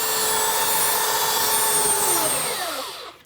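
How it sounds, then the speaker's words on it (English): Belt sander running steadily on the back of a wooden cabinet box, a loud broadband whirring grind with a tonal hum, spinning down at the end. "I'm gonna hit the back of this with a sander, the belt sander, to get these perfect."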